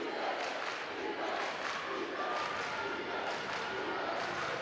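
Student crowd roaring steadily throughout a boys' high school basketball game between Danville and Avon, a dense wash of cheering and shouting in a gym, with no clear individual voice standing out.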